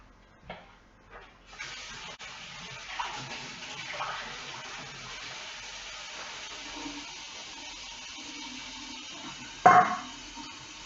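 Warm water runs from a kitchen tap in a steady, soft hiss for several seconds, with a few light clunks at the start and a brief louder splash near the end.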